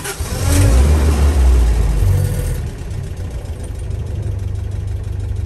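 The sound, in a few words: Land Rover petrol engine starting and idling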